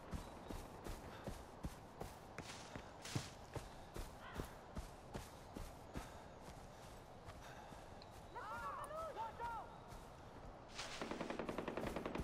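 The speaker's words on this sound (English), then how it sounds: "That sounds like too many guns, too many people." Gunfire in the video game Far Cry 4, with rapid rhythmic shots across the whole clip, a brief animal-like call midway and a denser burst of fire near the end, with faint talk underneath.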